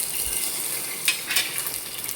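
Whole cinnamon, cloves, cardamom and fennel seeds fry in hot coconut oil for a chicken curry, with a constant close hiss and a few small crackling pops.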